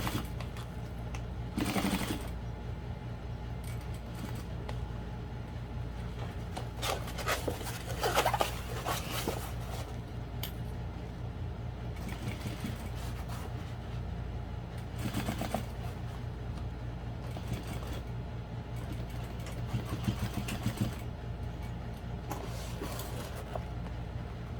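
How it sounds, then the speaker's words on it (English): Sewing machine stitching a seam on a barrel bag's drop-in lining, a steady low mechanical hum with short pauses, faint and continuous throughout, with no talk over it. "so now I'm just sewing from where I stopped sewing around the top curve down to where I started sewing at the bottom"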